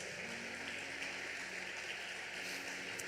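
A church congregation applauding, a steady wash of clapping hands from many people at low volume, continuous and even throughout with no voices on top.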